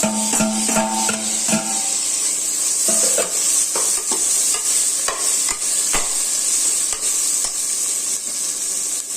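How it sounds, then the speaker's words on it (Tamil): Biryani masala with tomato and mint being stirred in a pot for chana biryani, loud continuous sizzling over an irregular run of spoon scrapes and knocks against the metal. "சும்மா ஒரு ரெண்டு நிமிஷம் இப்படி கிண்டி விட்டுட்டு"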